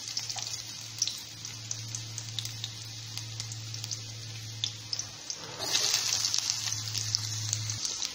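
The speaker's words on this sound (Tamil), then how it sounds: "இப்போ ஆனியனை நல்லா வதக்கிக்கலாம்." Steady crackling sizzle of onions frying in hot oil for chana masala, continuous and close, with a low hum underneath and a brief burst of louder spattering partway through.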